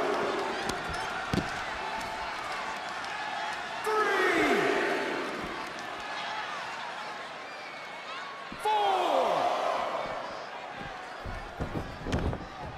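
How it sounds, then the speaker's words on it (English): Forearm strike impacts in the wrestling video game WWE 2K20, sharp slams and thuds cutting through a loud, swelling arena crowd roar, with crowd bursts rising around each hit. "Boom, what a forearm"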